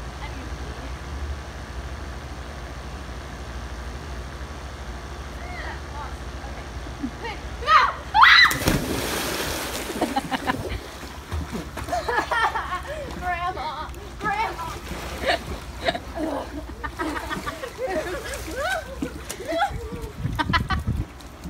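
A person jumps into a freezing outdoor pool, landing with a sudden loud splash midway, followed by sloshing water and excited voices talking and shouting over the churn.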